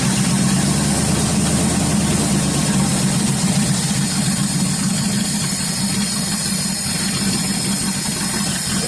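An old engine brought back to life after sitting, running steadily at idle with a continuous low rumble and constant loudness throughout, no voices over it.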